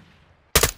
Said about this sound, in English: So I shoot him some more.